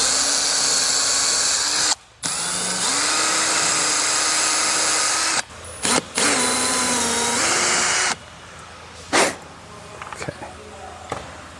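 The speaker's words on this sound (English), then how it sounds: "Then take our 3/16 bit, and we drill our hole for our insert." A power drill with a 3/16 bit whines steadily at high speed, drilling a hole for a plastic insert in a wall, stopping and restarting several times, with a voice audible alongside.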